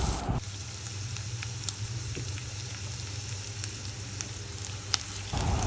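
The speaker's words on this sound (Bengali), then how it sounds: "তো এখন এই রসুন আর পেঁয়াজের ফালিগুলো আমি একটু ভেজে নিচ্ছি" Chopped garlic and onion slices fry in hot oil for chicken, giving a steady, close sizzle that runs evenly throughout with a few small pops and crackles.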